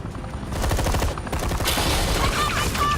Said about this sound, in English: you cops can't just shoot people like that.